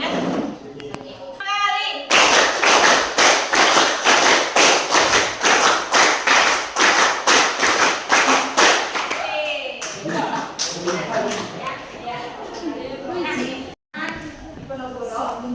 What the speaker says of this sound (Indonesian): Kita tepuk 1, 2, 3, 4 dan 5.